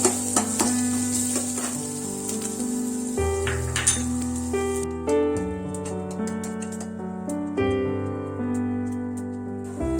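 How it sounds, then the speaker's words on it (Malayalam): Sesame seeds roast in a pan, crackling and sizzling with light metallic clinks from stirring, heard up close alongside sustained tonal background sounds, with no speech. "അത് തന്നെ നമുക്ക് തീർത്തും കുറച്ച് വെച്ച് വേണം എള്ള് വറുത്തെടുക്കാൻ"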